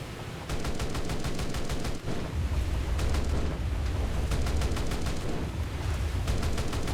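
Rapid bursts of boat gunfire in War Thunder rattle continuously, loud and close, over a deep rumble of engine and sea, with regular rhythmic cannon pulses throughout and a brief gap near the two-second mark.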